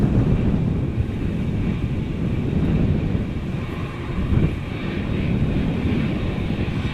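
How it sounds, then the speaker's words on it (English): Loud, steady jet engine roar of a Boeing 787-10 Dreamliner at Amsterdam Schiphol Airport, a broad continuous rumble holding level throughout with no voices. "this is KLM flight 611, Boeing 787-10 Dreamliner going to Chicago O'Hare"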